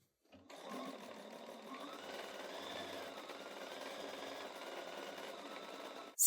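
A sewing machine stitches quilt pieces together, starting after a brief silence and running as one steady, fast mechanical whir with needle chatter, close and continuous until it stops at the end.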